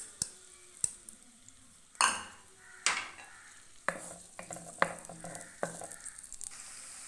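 Chopped onions sizzle in hot cooking oil for a chatpata mash dal, with a spoon scraping and stirring through them in a series of sharp strokes over a steady frying hiss, close and clear with no talking.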